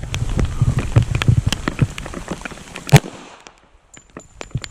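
A 1911 pistol fires jacketed hollow point rounds outdoors, a dense run of sharp cracking reports close together for the first three seconds, then a few scattered louder pops with near silence between them.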